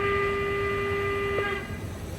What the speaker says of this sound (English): Just listen to the whistles. Listen to these whistles.